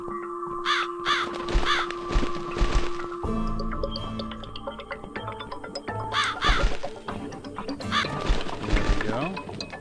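Crows caw repeatedly in The Cat Lady, harsh calls in uneven bursts over a game background with some mechanical and ambient sounds mixed in.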